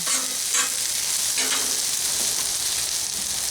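Beef stir fry hissing on a hot Blackstone griddle, a dense continuous sizzle with a few scraping pushes of a spatula moving the meat.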